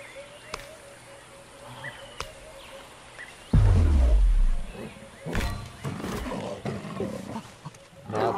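A big cat in the prehistoric survival game Ancestors lets out one loud, close roar lasting about a second, followed by rustling and thuds. Faint game ambience runs before and after it.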